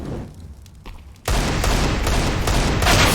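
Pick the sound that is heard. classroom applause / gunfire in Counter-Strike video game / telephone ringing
gunfire in Counter-Strike video game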